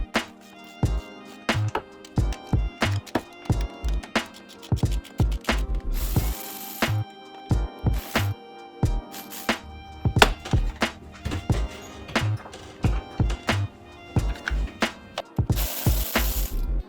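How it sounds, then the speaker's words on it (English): Ratchet loosening the engine mount bolts on a VW Golf 2.0, with repeated bursts of close, loud clicking strokes alternating with brief pauses and the occasional heavier clunk. "we'll break this free, and then we'll break these two 18s free"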